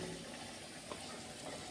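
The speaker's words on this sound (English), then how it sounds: "just as the water fills up." Water runs from a tap into a sink being filled for washing crystal, a quiet, continuous rushing wash with no other sounds.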